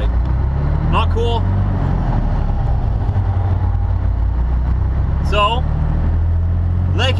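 A car runs a red light at a Toronto intersection, heard as steady close engine rumble and road noise throughout, with someone talking briefly over it.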